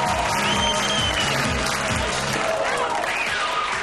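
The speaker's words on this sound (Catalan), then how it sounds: "Un aplaudiment," Studio audience applause on a Catalan television show as a man puts on DJ headphones, continuous clapping at moderate level with faint sounds layered over it.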